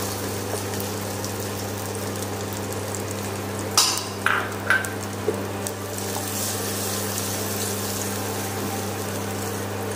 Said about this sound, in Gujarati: જે સમારે લસણ અને લાલ મરચાં છે તેનો વઘાર કરીશું